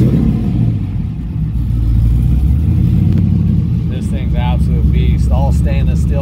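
A supercharged LSA stroker V8 in a 1967 pro-touring Camaro with a stainless steel exhaust fires up and revs, a loud steady engine drone with rising rev bursts, and a voice talks over it.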